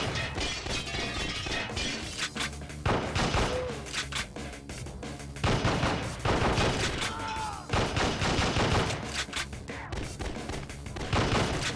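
Flashbang grenades blast again and again in a PlayStation game, with loud, dense cracks and shattering bursts over constant gunfire and game noise.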